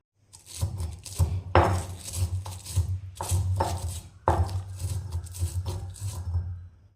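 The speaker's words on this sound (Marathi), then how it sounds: "एका खलबत्त्यामध्ये हे घेतलेले जिरे, ओवा आणि लसूण बारीक करून घ्यायचा" Cumin, ajwain and garlic pounded in a mortar and pestle, a run of close, loud, uneven thuds and grinding knocks in irregular bursts with brief pauses between them.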